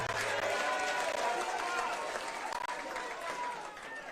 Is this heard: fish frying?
no